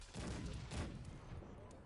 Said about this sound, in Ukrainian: Гармати працюють, що від мене, що від Хайма.